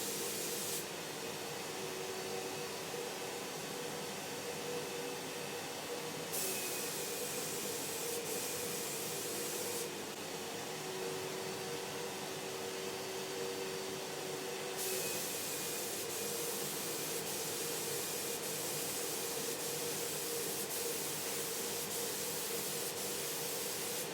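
A spray gun spraying paint onto a UPVC window hisses continuously for a long stretch, its steady airy spray pausing and resuming several times, close by with no speech.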